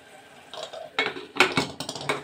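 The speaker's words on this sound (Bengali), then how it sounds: "আমি ঢাকা দিয়ে দিচ্ছি।" Metal lid placed onto a pressure cooker of mushroom masala: a short run of clattering metallic knocks and clinks, close and fairly loud, building to several quick bangs as the lid settles.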